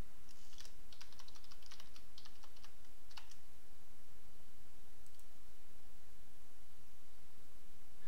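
Keys on a computer keyboard are typed in a quick run of clicks during the first few seconds while a password is entered on a Windows 8 workstation, then only a faint steady hiss remains.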